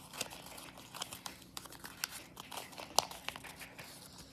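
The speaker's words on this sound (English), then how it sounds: "And continue doing the mountain fold to the tip." Paper being folded into an A-10 paper airplane with origami mountain folds, giving soft crinkling and rustling with a few sharper crease snaps, close and alone.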